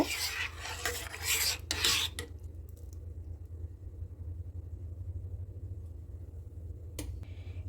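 A pot of rice payesh is stirred, a close rasping scrape of a spoon along the bottom in two short bursts, then a low steady simmering rumble and one more brief scrape near the end.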